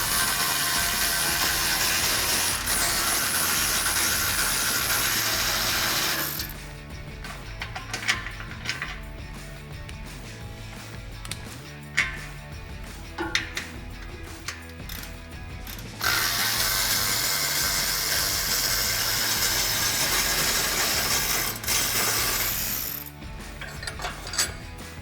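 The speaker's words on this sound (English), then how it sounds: "I've got my 13 millimeter socket on my electric ratchet" Electric ratchet with a 13 mm socket spinning exhaust flange bolts off a 2021-2022 F150 5.0L, rapid clicking whir that comes in long stretches, with quieter handling clatter in a middle gap, close and fairly quiet.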